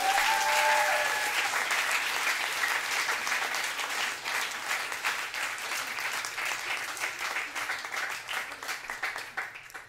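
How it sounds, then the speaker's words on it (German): A concert audience at a closing performance claps in sustained, full applause, loud at first and easing slightly while staying dense throughout. "Jetzt dürft ihr kurz klatschen."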